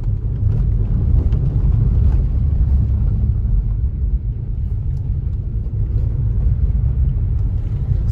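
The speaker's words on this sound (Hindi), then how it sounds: "सामने से भी गाड़ी आ रही है" Continuous low, rumbling road noise of a vehicle moving along a flooded, damaged road on the route toward Azamgarh, steady and fairly loud throughout with no speech.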